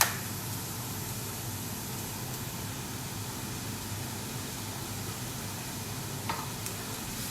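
Mushrooms cook in a pan for a risotto, giving a steady, soft sizzle that runs evenly throughout, with one small clatter near the end.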